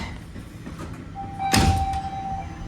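A Toronto TTC Line 4 Sheppard subway train's doors give a sustained electronic chime, with a sharp sliding thud as the doors close partway through. Station ambience continues quietly underneath.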